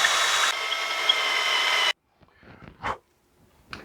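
A power drill with a 1/4 inch bit bores through wood on a small boat build, running in a steady loud whine that stops abruptly, followed by a few faint handling knocks.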